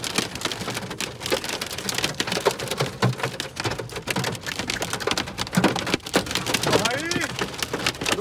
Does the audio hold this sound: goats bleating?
no